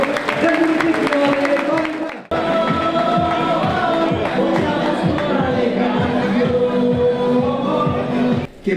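Crowd at an outdoor political campaign rally applauding in a sustained burst of clapping and cheering, while someone speaks loudly over a public address system.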